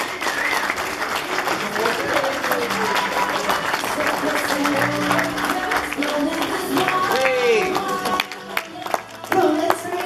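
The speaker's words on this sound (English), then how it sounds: "Let's give them a big round of applause." Applause and clapping from wedding guests fill a steady, fairly loud wash of hand claps, with voices and cheers mixed in throughout and a brief dip near the end.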